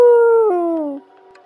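A human voice imitates a beagle howling deep in the woods. It gives one loud, drawn-out howl that drops in pitch partway through and ends after about a second, then near silence follows.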